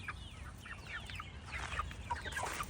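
Young chickens, about fifteen seven-week-old birds, clucking and chirping in bursts as they leave their coop in the morning, moderately close with steady outdoor background.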